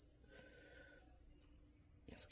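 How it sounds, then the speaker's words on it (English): A cricket chirps close by at night beside a sleeping cat, a steady high trill running through the quiet with a brief soft bump near the end. "there's a cricket on his face mocking him"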